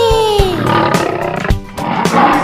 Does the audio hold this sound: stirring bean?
no